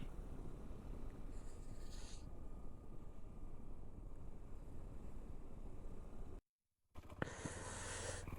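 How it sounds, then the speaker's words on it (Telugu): Water tumbling from above at Tarabu waterfall near Vizag makes a steady, dense roar close to the mic, briefly cut to silence before resuming. "వాటర్ వస్తుంది పైనుంచి."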